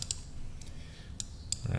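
Computer mouse clicks while setting up a test in the MT4 trading platform: a few sharp, isolated clicks spaced apart over a low steady background hum, with no talk.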